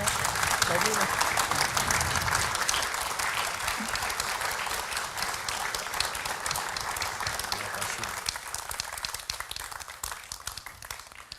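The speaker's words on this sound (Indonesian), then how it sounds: "Kita berikan tepuk tangan sekali lagi." Sustained applause from an audience at a Journalist Day 2026 lifetime achievement award ceremony, a dense, steady wash of clapping lasting throughout and easing slightly toward the end, with voices mixed in.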